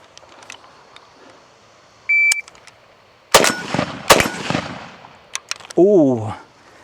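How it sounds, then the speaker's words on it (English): Zastava M92 rifle firing GROM ammunition at steel targets, giving a few sharp, loud shots in quick succession with ringing hits, followed by a mechanical beep-like tone near the end. "2 shots on steel, 2 shots on steel."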